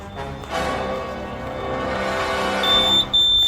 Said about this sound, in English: you hear that beeping noise in the background?